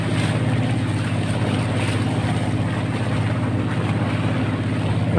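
A steady motorboat engine drones loudly and continuously with water rushing underneath, with no speech.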